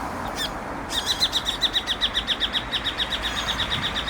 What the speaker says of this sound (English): Listen to the birds up there.